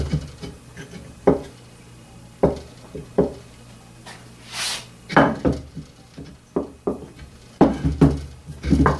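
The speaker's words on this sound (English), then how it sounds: "let's go ahead and flip this stone over and get started on the finer side" A sharpening stone being flipped and set down on a workbench while polishing a nagamaki blade gives a series of sharp wooden knocks and clacks, separated by short pauses and a brief scraping rub.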